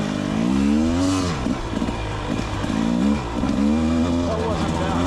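Rieju MR300 Pro 300cc dirt bike engine revving up and down in rising and falling pulls, close and loud, with a rider talking over it at times.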